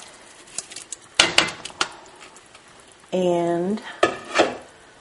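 Shrimp and crab drop into a gumbo pot of boiled chicken and sausage with splashing clatters and metal clinks, followed by a brief bubbling hiss; a voice speaks briefly.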